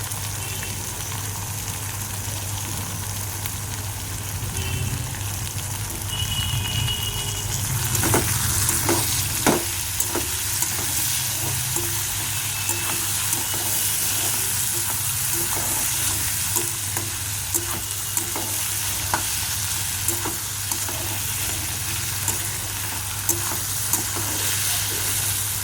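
Tomatoes and green chilies fry in a pan alongside potatoes and carrots for a homemade egg chicken pasta, with a constant sizzle and occasional clinks and stirring scrapes growing louder midway.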